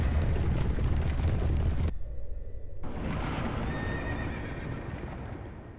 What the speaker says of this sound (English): The horses are upon you.